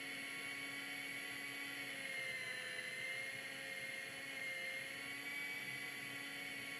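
A steady, high-pitched whining rotor hum drones continuously at an even level, from a small model helicopter hovering nearby in the RealFlight G2 flight simulator game.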